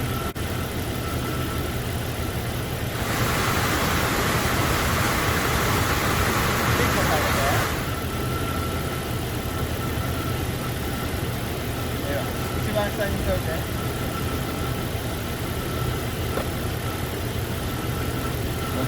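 A replacement heater blower motor for a 1993 Jeep Cherokee XJ, wired to the car, spins with a steady broadband whir that rises for about five seconds and then drops back under a constant engine-like hum.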